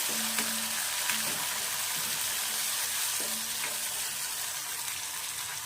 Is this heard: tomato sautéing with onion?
yes